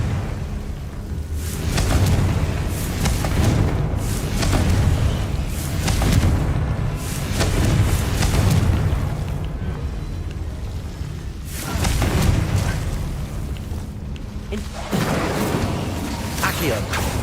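Confringo spell explosions from the video game Hogwarts Legacy go off as repeated booming blasts with whooshing bursts across a busy fight. A voice talks over them.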